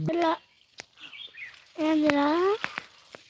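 Two drawn-out, whistling bird-like calls rise over a quiet background, with a few sharp clicks and faint voices between them.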